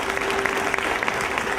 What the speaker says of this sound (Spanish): no me queda nada más que recibir con un cálido aplauso al doctor de la Corte